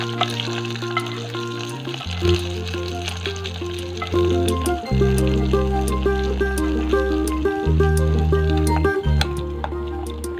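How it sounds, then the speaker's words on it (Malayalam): Hot tempering of dried red chillies and curry leaves is poured into an okra yogurt curry, setting off a loud, continuous sizzle and crackle with wet bubbling and stirring noises throughout. "ഇനി ഇത് താളിച്ചത് നമുക്ക് കറിയിലേക്ക് ഇട്ട് കൊടുക്കാം."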